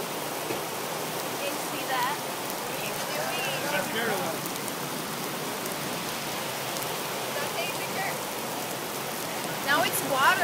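Hail patters densely and evenly on surfaces during a Texas storm, a steady hissing rattle that keeps up throughout, with brief faint voices under it and a louder spell near the end.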